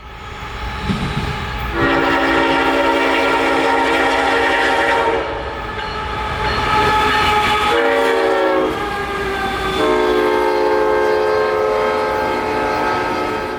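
A CSX freight train led by locomotives 1776 and 3194 passes close by, sounding several long, loud multi-tone horn blasts with brief breaks over the rumble of the rolling cars.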